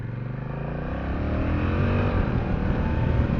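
A 2024 Honda Rebel 1100 DCT motorcycle under way, its engine droning steadily and building slightly as it rides, with wind rush and no talk.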